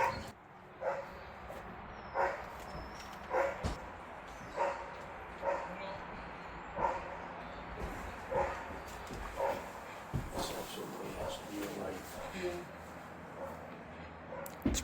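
Sled dogs bark outdoors in a steady, evenly spaced run of sharp barks and yips, fairly distant, with a person talking partway through and wind-like background noise.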